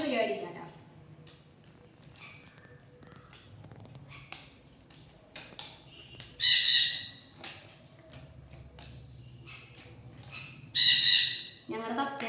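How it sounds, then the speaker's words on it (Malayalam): A pet parrot gives two loud, harsh squawks, close by and spaced several seconds apart, with faint clicks and soft background noise between them. "ഞങ്ങളുടെ തത്തയാണ് കേട്ടോ"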